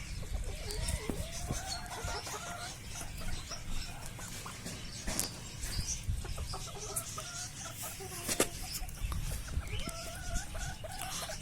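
Sultan chickens clucking in a poultry yard, scattered soft clucks and short calls over a busy, noisy outdoor background.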